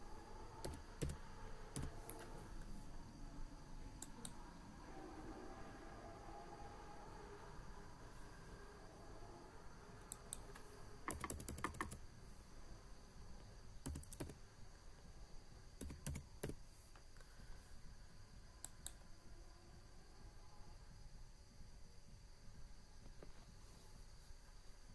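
Soft, fast keystrokes tap on a computer keyboard in short irregular bursts as a new website name is typed, with scattered mouse clicks and a faint hum, all quiet.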